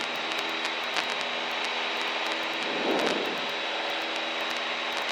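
Steady drone of a light aircraft engine running throughout during a touch and go at Barton, heard from inside the cabin, with a brief swell in the middle and no talk.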